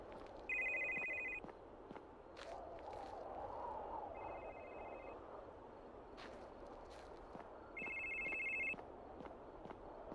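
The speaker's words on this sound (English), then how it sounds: "Fucking phone again." A telephone rings three times in spaced electronic bursts, each about a second long, over a quiet background with soft footsteps and movement.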